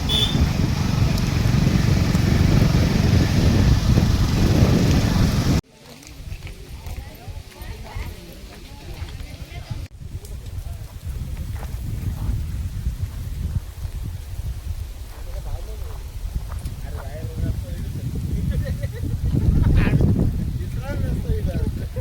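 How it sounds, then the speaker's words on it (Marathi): Heavy rain pours onto a village road in a sudden storm with strong wind, a loud steady broadband wash that fills the whole scene, with people talking over it. "बघा किती जोरात पाऊस चालू झालाय"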